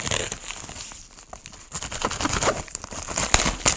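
Close, crinkly rustling and sharp crackles of plastic wrap being pulled and torn open on an EKEN H9 action camera package, continuing in uneven bursts throughout.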